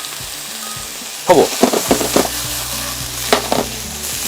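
Onion, cabbage stems and carrot hit a hot pan on an LG DIOS induction range, bursting into a loud sizzle that crackles in several sharp spurts over a low steady hum.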